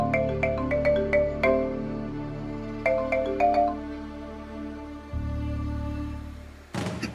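A phone ringtone chimes in repeated bursts of bright tones while a call goes unanswered, followed by a low drone and a sudden thud near the end.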